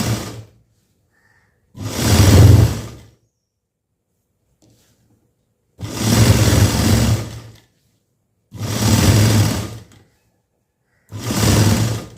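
A sewing machine stitches a lining blouse with a cross-cut bias piece, four loud close bursts of rapid whirring stitching, each a second or more long, separated by silent pauses, with no talk.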